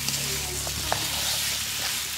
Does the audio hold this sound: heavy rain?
no